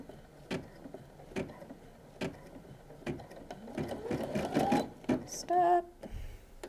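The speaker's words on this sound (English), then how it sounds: "We don't have to pull the bobbin thread up with this machine, so I'm just going to lower it and do a few stitches." An embroidery machine running a few stitches, with sharp, evenly spaced clicks at first that speed into a dense mechanical whirring burst, followed by a brief high whine and a thump as it stops.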